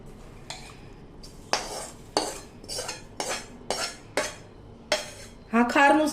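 Spiced oil masala is poured over raw mango pieces for a pickle and mixed in. A spoon scrapes and clinks against a metal vessel in a series of distinct strokes, ending in a brief busier clatter.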